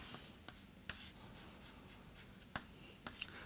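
Pen or chalk scratches and taps close by as a differentiation step is written out, soft rubbing strokes punctuated by a few crisp clicks, with no talk.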